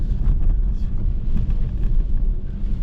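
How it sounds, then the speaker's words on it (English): Steady gusty wind roaring over the microphone on the Gold Coast the morning after Cyclone Alfred, a continuous low rumble with buffeting bursts and no voices. "It's still windy and a bit of rain"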